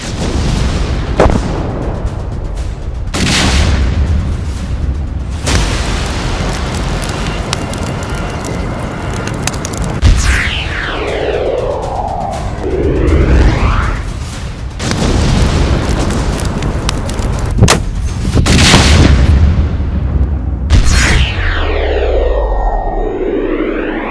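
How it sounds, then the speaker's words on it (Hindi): A series of heavy, booming explosions from a rocket-propelled grenade weapon rumble one after another, with deep low roars and crackling debris between the blasts. "मोहाली धमाके में भले ही नुकसान कम हुआ है, लेकिन ये धमाका कितना बड़ा और खतरनाक है"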